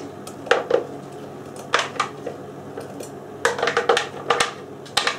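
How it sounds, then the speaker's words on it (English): Paste for a beef Wellington being scraped into a pan, heard as intermittent close clinks and scrapes of a utensil against metal cookware, in short irregular bursts over a quiet kitchen background. "I'm going to put it into a pan, as it said."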